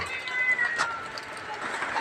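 A cat meows once, briefly and close, among several cats at a temple in Lampang, Thailand, with rain falling steadily and someone talking over it.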